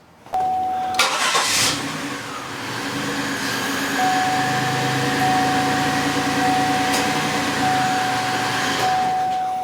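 A 2004 Chevrolet Monte Carlo Intimidator SS V6 cranks and fires, then settles into a steady, fairly loud idle close by, with a constant hum and no talking.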